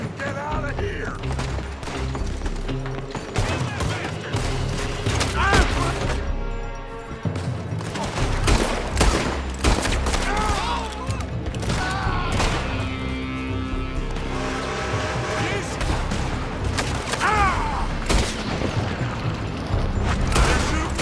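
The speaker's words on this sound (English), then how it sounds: "They're shooting from that building!" A gunfight in Red Dead Redemption 2 as attackers fire from a building: dense bursts of gunshots and ricochets crackle continuously for about twenty seconds over music and commotion, with shouted voices mixed in.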